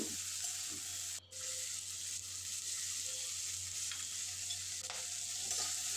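Vegetables frying in a pan while being stirred, a quiet, continuous sizzle with soft scraping and a few light spoon knocks over a low steady hum.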